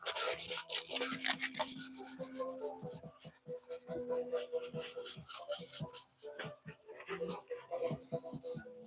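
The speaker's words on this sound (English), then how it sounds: "Sanded down just fine." Wooden boxes are being sanded by hand, a dense run of close scratchy rubbing strokes in steady rhythm with brief pauses, while a voice talks quietly in the background.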